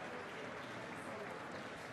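Audience at a MEDEF summer university event applauding to welcome a guest, a dense, steady wash of clapping that stays even for the whole brief stretch, with faint talk beneath.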